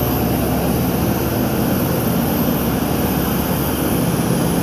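A loud, steady roar of a Citilink airliner's engines on an airport apron fills the air without pause, a broad whooshing drone close by.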